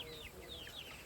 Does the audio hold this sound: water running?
no